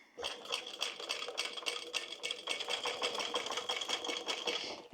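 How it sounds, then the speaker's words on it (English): A sewing machine runs steadily while top stitching a tote bag with webbing, a close rhythmic mechanical whirring with fast repeated needle clatter throughout and no talk. "Okay, let's top stitch. So I'm going to start from a side"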